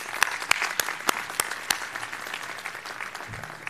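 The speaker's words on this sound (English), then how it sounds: "A nice round of applause for all of them." Audience at an awards ceremony applauding, with a burst of sharp individual claps at first that then settles into softer, steady clapping from a moderately distant crowd.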